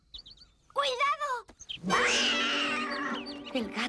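Animated cat attacking a small bird in a children's cartoon story: bird chirps, then a wavering cat yowl and screech rising loudly and holding, close and vivid.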